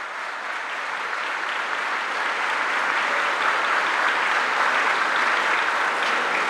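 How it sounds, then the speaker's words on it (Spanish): Steady crowd applause for the provincial governor at an anniversary celebration of the provincial roads directorate, a dense, even wash of clapping that swells slightly and holds throughout. "para quien pido un fuerte aplauso."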